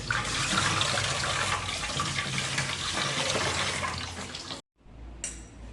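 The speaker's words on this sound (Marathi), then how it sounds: "याला पण धुवून घेतो आणि चिरून घेतो" A small tomato rinsed under a running kitchen tap, a steady close splashing stream that stops abruptly, followed by a short trickle.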